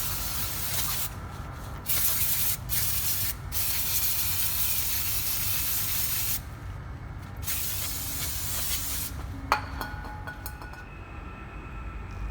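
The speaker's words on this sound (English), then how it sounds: "using so much brake cleaner" Brake cleaner sprayed from an aerosol can onto the front brakes of a SAAB 9-3 Aero with 16-inch, 314 mm rotors, a loud continuous hiss broken by a few short pauses and ending with a light clink, close by and with no talking.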